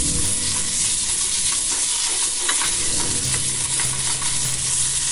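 Lentils and tomato paste stirred and sizzling in a pot, a loud dense crackle with repeated scraping stir strokes, close up and steady, no talking.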